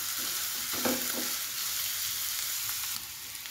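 Green chillies and curry leaves sizzling in hot oil for Kerala-style chicken mappas, a close, constant frying hiss with a brief clatter of stirring near the start.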